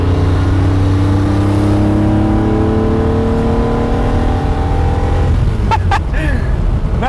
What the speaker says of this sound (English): Not that many people have floated in a V12 Ferrari from the 60s.